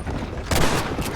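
Gunfire from the Western video game Red Dead Redemption: a short burst of loud, sharp shots cracking in quick succession, with a shout mixed into the volley.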